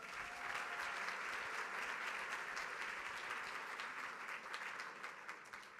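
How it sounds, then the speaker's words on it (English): An audience at a charity gala ball bursts into steady applause, a dense even patter of many hands clapping at moderate distance that continues for several seconds and tapers slightly at the end. "give her another big round of applause"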